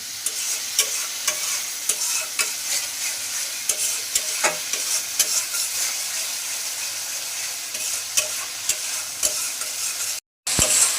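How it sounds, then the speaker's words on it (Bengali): A spice paste with a splash of water stir-fried in a pan for a rohu fish curry, a bright continuous sizzle and hiss punctuated by repeated sharp spatula scrapes, briefly cutting out near the end. "জল দিয়ে মশলাটাকে কষিয়ে নেব"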